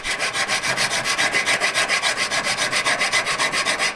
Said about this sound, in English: A coarse file, get one side